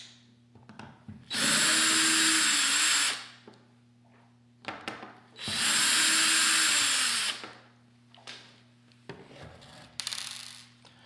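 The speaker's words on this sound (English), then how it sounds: "Next we'll be removing these 2 screws at the back." A power drill backs out two screws from the rear of a Dupray Neat steam cleaner in two loud, close whirring bursts, each lasting about two seconds, with quiet handling clicks and rattles between them.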